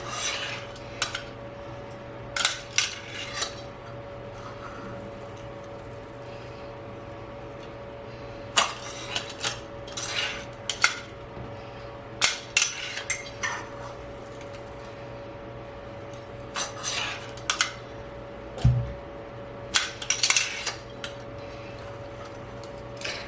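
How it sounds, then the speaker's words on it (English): Boiled, peeled potatoes being pressed through a ricer for homemade gnocchi, producing intermittent close squeezing, rasping and metallic clicking bursts separated by quiet pauses, with no talk. "we're going to start off by ricing some potatoes that we have previously boiled and then peeled"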